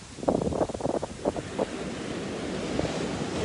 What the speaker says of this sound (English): I'm here at the ocean.